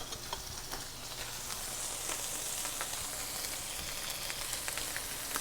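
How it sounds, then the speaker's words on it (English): Butter sizzling and frying in a hot pan with wagyu steak, a steady crackling hiss with scattered pops, moderately quiet and unbroken throughout. "We're going to throw a little more butter in the pan just to help it along."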